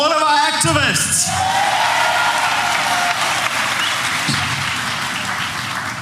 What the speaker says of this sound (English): let's give a round of applause for all of our activists